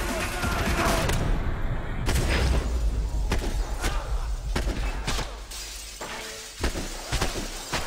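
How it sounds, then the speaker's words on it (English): Glass shatters during a gunfight in the Max Payne 3 video game, with a loud, dense crash followed by sharp, repeated impacts and bursts of breaking glass over several seconds, with no talking. "Ah, oh, with the glass breaking."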